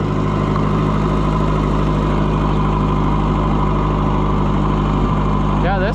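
An Oliver 550 tractor with a loader runs with its engine droning steadily, loud and close, in an even, unbroken hum throughout.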